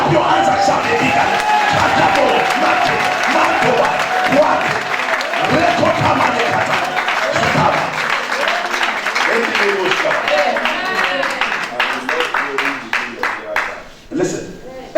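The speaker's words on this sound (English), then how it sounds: "If you believe, clap your hands and shout a bigger." A church congregation at a pastor's 60th birthday thanksgiving service claps hands and shouts; loud applause mixed with cheering, whoops and raised voices, thinning into scattered clapping and chatter near the end.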